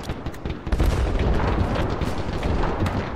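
Artillery shells and mortar rounds bursting in a Mount & Blade Warband mod battle: a dense, continuous barrage of booms and blasts that swells after a brief build-up and rolls on loud and unbroken.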